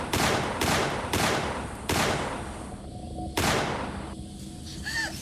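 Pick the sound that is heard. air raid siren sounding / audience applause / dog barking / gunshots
gunshots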